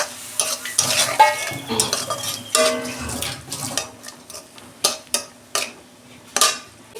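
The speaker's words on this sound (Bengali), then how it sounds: "অল্প জল দিচ্ছি আমি, দিয়ে মশলাটাকে ভালো করে 2 মিনিট কষাবো" Spice paste with cumin and coriander powder and a little water is sautéed in a pan, sizzling close by while a utensil scrapes and knocks against the metal in irregular stirring strokes.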